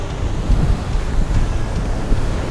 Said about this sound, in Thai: คือลมเบบทะเลมันมันซัดแรงมากเลย